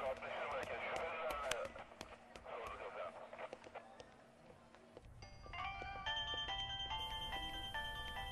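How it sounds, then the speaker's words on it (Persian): A telephone rings with an electronic melodic ringtone in the second half, loud and repeating, after a stretch of background scene sounds with no clear talk. "خدایا همین زنگ تلفن نمیرسید"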